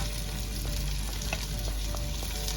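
Chili powder and coriander powder fry in coconut oil while being stirred for a Kerala mutton bone curry, a soft continuous sizzle with a few light scrapes of the spoon, no talking.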